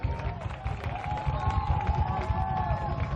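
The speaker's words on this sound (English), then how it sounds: "the Blacksburg fans cheering on their team" Blacksburg fans at a soccer match, a crowd roaring and cheering with scattered whoops, steady and fairly loud, with footsteps and ball thumps from the pitch underneath.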